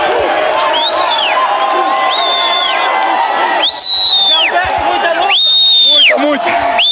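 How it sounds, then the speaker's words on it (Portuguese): A huge crowd of football supporters roars and cheers continuously, with sharp whistles rising over the noise in repeated bursts, swelling louder toward the end. "a essa torcida gigante que está aqui nos apoiando e nos empurrando"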